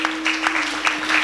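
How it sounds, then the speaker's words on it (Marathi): An audience at a devotional kirtan gathering claps in short, fairly regular bursts, close and moderately loud, over a steady low electrical hum. "त्यांच्यासाठी एकदा जोरदार टाळ्या होत्या."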